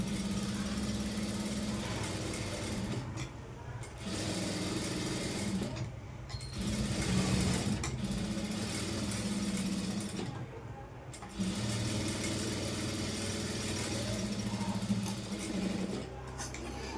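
Sewing machine stitching piping around a cross-cut blouse: runs of steady, close mechanical whirring and rapid needle chatter, stopping briefly several times between bursts.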